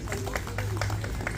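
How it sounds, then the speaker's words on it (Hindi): An audience at a Kashmiri Pandit public gathering claps in steady scattered bursts, moderately loud with a low hum beneath and no speech over it. "एक बार जोरदार तालियां हो जाए इनके लिए।"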